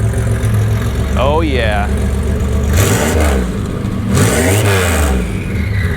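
A 1987 Buick Grand National engine idles with a loud, rough, open-exhaust rumble, then revs sharply twice, rising and falling, as a voice speaks briefly over it.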